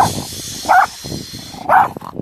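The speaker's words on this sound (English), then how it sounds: "When did he bring the dogs in there? He's got the dogs." Dogs at a campsite bark twice, about a second apart, short sharp barks close by over a quiet background.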